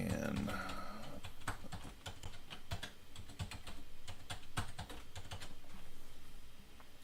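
A password being typed on a computer keyboard during a CentOS installation: a close, continuous patter of key clicks with a few louder keystrokes, while a voice talks faintly underneath.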